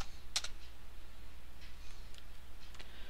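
A few light keystrokes on a computer keyboard as a command is typed into the fish shell, one crisp tap followed by softer scattered clicks over quiet background hiss.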